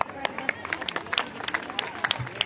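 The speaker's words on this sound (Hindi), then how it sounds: "तालियां बजा सकते हैं।" Scattered applause from an audience at a school Independence Day celebration, with uneven, sharp claps over a murmur of crowd voices.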